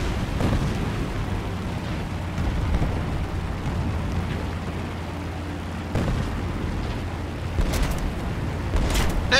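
Anti-aircraft flak bursts around a B-25 Mitchell bomber in War Thunder, a steady roar of engine and explosions with heavier thumps near the six and eight second marks.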